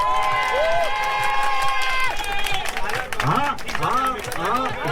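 A crowd at a car meet applauds and cheers for a Peugeot 205 CTI, loud clapping and shouts building over a continuous backdrop of voices and chatter.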